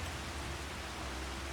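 Steady rain falls on a farm during a storm, a continuous broadband hiss of drops with a low rumble underneath, fairly faint and even throughout, with no voices.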